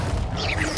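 Levioso levitation spell cast in Hogwarts Legacy on PS5, heard as a brief, loud magical whoosh with a mechanical whirring texture that ends in a sharp thump.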